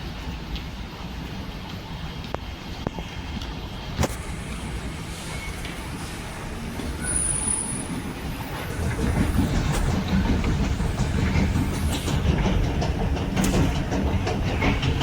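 A Singapore train rolls along the rails, its low rumble growing louder and heavier partway through, with steady rattling and a few sharp clanks.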